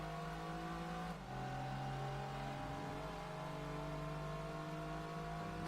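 Dodge Viper GTS and RT10 cars racing in Gran Turismo 2 on the Rome circuit, a steady loud engine drone with shifting pitch as the cars run continuously, a brief dip near the start.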